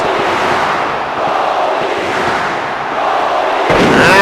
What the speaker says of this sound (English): And the crowd here in Detroit,